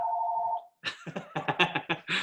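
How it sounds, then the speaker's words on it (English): A telephone rings with a steady electronic tone near and alone for about half a second, then stops and a person starts talking. "I just get my assistant to answer the phone."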